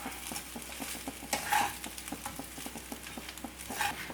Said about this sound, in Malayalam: ഹൈ ഫ്ലെയിം വെച്ചിട്ട് ഇനി ഇതിലേക്ക് നമുക്ക് ഫ്രൈ ചെയ്ത് വെച്ച കോളിഫ്ലവർ ഇട്ട് കൊടുക്കാം അതിനുശേഷം നല്ലപോലെ കൊണ്ട് മിക്സ് ചെയ്ത് കൊടുക്കാം